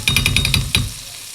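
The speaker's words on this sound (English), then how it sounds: "That garlic is frying beautifully." Salmon fillet and garlic fry in butter with thyme in a pan, a close rapid series of sizzling, spattering bursts that fades out after about a second.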